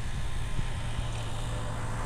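A camera drone's motors whir up and hold a steady, close, droning buzz with a low engine-like hum throughout, ready to fly over the town of Mogpog; no one speaks.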